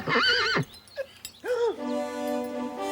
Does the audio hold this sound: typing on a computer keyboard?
no